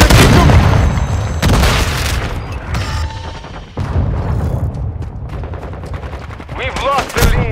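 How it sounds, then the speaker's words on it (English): A stun grenade goes off amid loud gunfire in Call of Duty: Modern Warfare II hardcore multiplayer, heavy booming bursts and rattling shots layered throughout with brief voice callouts. "Stun grenade."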